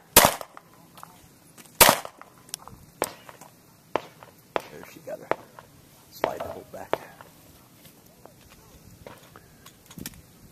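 Handgun shots at an outdoor shooting match ring out as sharp, loud cracks at irregular intervals, some nearer and some farther, with quiet voices and background movement in between.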